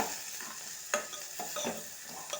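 A spoon stirs salt and turmeric into a frying potato and tomato curry, with soft scraping strokes and a few sharper clinks over a faint, steady sizzle.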